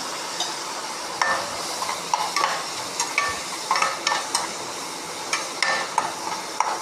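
Onions fry with salt in a pan for a dried fish gravy, with a continuous sizzle under repeated scraping stirs of a spatula against the pan at a fairly regular pace, close and clear.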